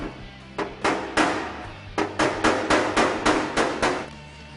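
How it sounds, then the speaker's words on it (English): Hammer blows knock down a high spot on a car body during prep work, about ten sharp, close metallic strikes in an uneven rhythm with short pauses between them. "we've got a high spot, so we're just going to hammer that down"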